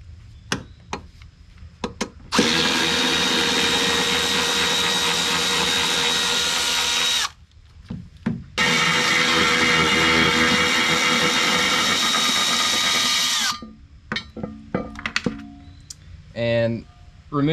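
A power tool whirs in two sustained bursts, each several seconds long, as it backs out the 12 mm bolts on a jet ski ride plate. Short clicks and handling knocks fall between and after the runs, and a voice talks briefly.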